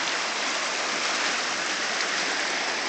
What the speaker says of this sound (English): here's the river this morning. It's been raining for a couple days